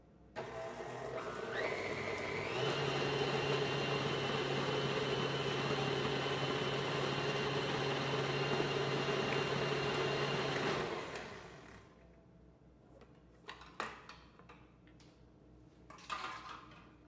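An electric mixer beats homemade Boursin-style cheese spread at medium speed, a loud, steady whirring hum with a shift in pitch near the start, then it stops and a few faint clinks and light knocks follow.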